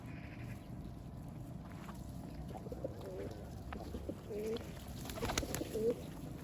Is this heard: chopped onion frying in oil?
no